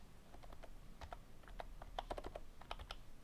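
Computer keyboard keys such as Shift and Alt being pressed in a shortcut: a quiet, irregular series of close, sharp clicks and taps, alone without speech.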